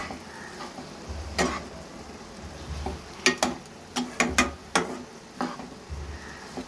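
Drumstick leaves and egg poriyal being stir-fried in a pan, a soft low sizzle punctuated by a series of sharp metallic spatula taps and scrapes in an irregular rhythm.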